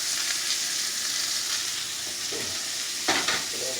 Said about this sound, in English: It's got a real good sizzle going on it now